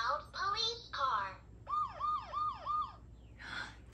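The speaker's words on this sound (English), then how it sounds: "Sirens ready, I'm driving to the crime" A cartoon police car siren sounds in a children's program, with a few quick rising whoops followed by a repeated wailing warble, fairly clear against a quiet background.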